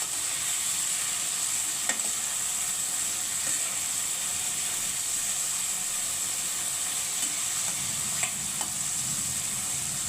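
Potatoes frying in hot oil for a Bengali potol chingri (pointed gourd and prawn) dish, a steady close sizzle throughout with a couple of faint stirring clicks.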